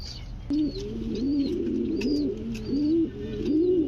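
A pair of Lahori pigeons coo up close in a steady run of low, throaty, rolling calls, the cooing repeating without pause and standing alone with no talk.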